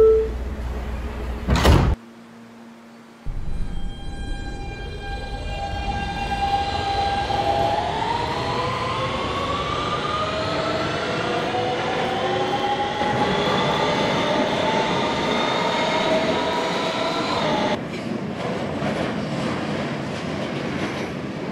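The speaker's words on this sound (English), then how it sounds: "This is a 96th Street, 2nd Avenue bound Q train." Kawasaki R160B subway train in a Roblox game: a chime and door thump, then a rising electric motor whine as the train pulls away and accelerates, loud and steady, with the tone shifting near the end.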